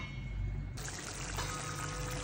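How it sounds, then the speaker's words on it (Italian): A small splash of water trickles and pours into a pan of stuffed aubergines simmering in sauce, a faint, steady pour that grows brighter partway through, with no voices. "aggiungiamo sempre un goccino d'acqua"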